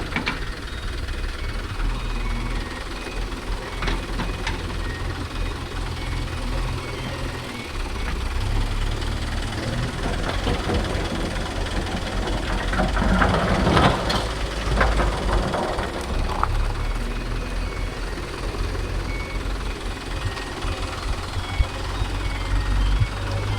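A Mahindra Yuvo Tech Plus 585 tractor engine runs at a constant rumble beside a JCB 3DX backhoe loading stone, with scattered clanks and knocks over the steady drone.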